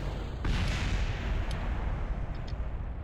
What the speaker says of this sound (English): There's still an explosion